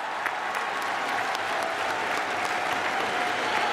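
Standing ovation at Teerthanker Mahaveer University's 2023 convocation ceremony, a large audience clapping in a steady, dense, even wash of applause that holds throughout.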